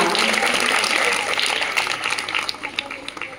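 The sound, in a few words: loud applause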